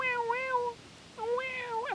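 A person imitates a house cat with two long, wavering vocal meows separated by a short pause, close and fairly loud.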